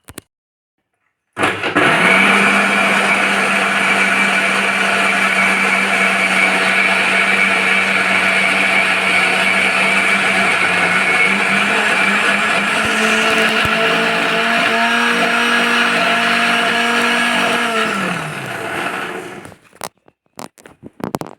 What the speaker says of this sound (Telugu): ఇప్పుడు దీన్ని మూత పెట్టుకొని మిక్సీ వేసుకోవాలి.